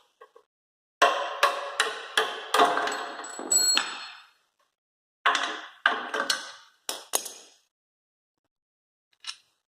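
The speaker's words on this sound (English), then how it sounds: "wrench and hammer." Sharp metallic impacts from a hammer and wrench working on a Miata subframe during a J-series engine swap, several quick clusters of strikes with pauses between, close and fairly loud.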